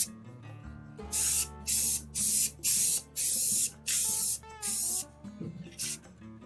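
Aerosol can spraying very light coats of flat clear sealer over a carved wooden arborglyph, about nine short bursts of hiss in a steady rhythm, close and fairly loud.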